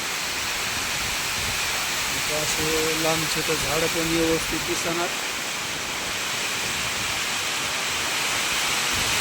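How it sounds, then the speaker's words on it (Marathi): Heavy rain pouring over flooded farm fields, a loud, steady broadband wash that runs the whole time, with someone talking briefly partway through. "किती पाऊस पडलाय असे शेतामध्ये पूर्ण पाणीच पाणी झाले"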